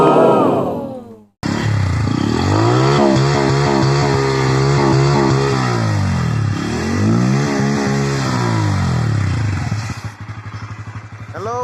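A new-model Bajaj Pulsar N160 motorcycle engine idles close by, then revs up and down twice in long, rising and falling sweeps before settling back to a clattering idle.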